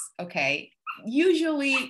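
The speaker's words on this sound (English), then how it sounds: "That's my dog dreaming." A dog whimpers and whines in its sleep, high wavering cries rising and falling close by, broken up by a person talking.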